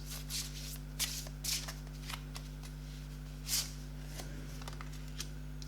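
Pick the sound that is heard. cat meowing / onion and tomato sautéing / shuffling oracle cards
shuffling oracle cards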